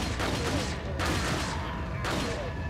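Gunfire in the video game Resident Evil 4: loud, dense, continuous bursts of shooting that fill the whole stretch, with no gaps between them.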